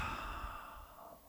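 A slow, steady exhale during a yoga class on upper back and backbends, a soft airy breath that fades gradually over a second and a half, close and quiet with no talking.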